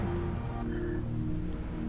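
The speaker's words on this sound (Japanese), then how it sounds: "雨も降ってきたし。" Steady, even rain patters continuously in the Final Fantasy XIV game world, a dense close wash of falling drops with a faint low drone beneath.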